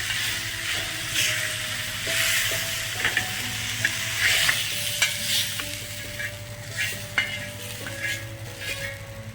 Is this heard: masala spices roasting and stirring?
yes